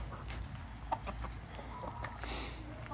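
Chickens clucking at close range around a backyard coop, steady overlapping clucks and soft squawks over a constant outdoor background with no talking.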